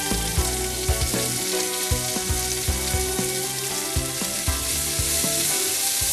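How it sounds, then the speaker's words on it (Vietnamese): Garlic and white onion stir-fry in a hot pan, a steady sizzle punctuated by regular clacks of a utensil stirring and scraping, close and fairly loud with no talk. "Mình để hành trắng vào, xào."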